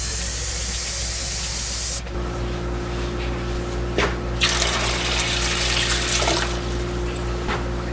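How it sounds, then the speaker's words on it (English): Steady rushing of water pouring into a cooking pot, a continuous close gush with slight changes in tone as it fills. "8 cups of water"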